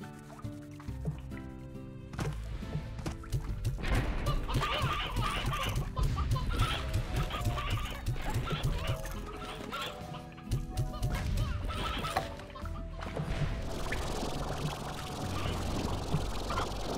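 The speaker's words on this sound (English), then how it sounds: "Go get some of these chickens to the boom slimes." Chickens cluck in the video game Slime Rancher, their short calls scattered through busy, loud game music that dominates the mix.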